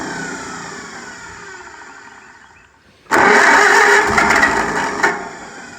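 A Farmall M tractor engine cranks and catches, bursting into a loud, rough idle after a quiet moment, with a slight rev toward the end.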